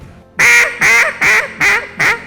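Duck call imitating a hen mallard, five loud, evenly spaced raspy quacks in a steady descending cadence, close up with no other sound.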